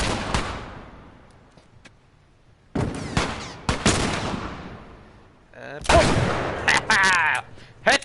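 Gunfire in The Last of Us: a few loud, sharp gunshots spaced seconds apart, each ringing out with a long reverberant tail, then a quick cluster of shots near the end, heard up close over quiet game ambience.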